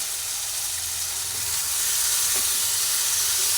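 Eggplant fries in a pan with fish oil, onion, garlic and ginger, giving a loud, steady sizzle with hissing steam that swells slightly and continues without a break.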